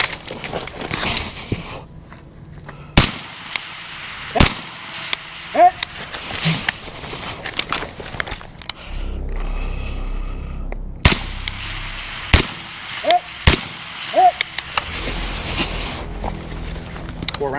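Rifle fire from 14.5-inch BCM Mk2 Raider and Centurion rifles on a shooting range: several sharp, loud individual shots spaced irregularly over the stretch, with quieter pauses and faint background sounds between.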